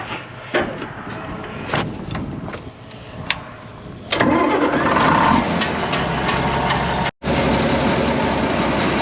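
Diesel farm machinery such as a combine, semi truck and chopper wagon engines idle and rev during a high-moisture corn harvest; a steady loud engine drone swells louder midway, with brief knocks and a short cutout near the end.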